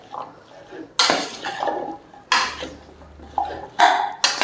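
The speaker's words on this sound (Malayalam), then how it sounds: "ഇനി ഇതെല്ലാം കൂടി നമുക്കൊന്ന് ഇളക്കി കൊടുക്കാം." Beef curry is stirred in a pressure cooker, producing several loud, separate bursts of metal scraping and clanking with short pauses between them. No one speaks.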